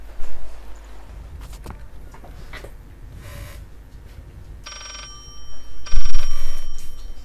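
An old bell telephone rings in the horror video game Layers of Fear, two loud metallic rings arriving late after footsteps and creaks, each sustained and close.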